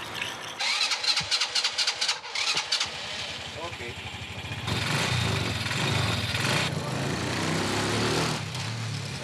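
A motorcycle-like engine with its carburetion tuned to run on 80% alcohol fuel cranks in rapid bursts, then catches and runs steadily at a rough mid-pitched idle, with people talking over it.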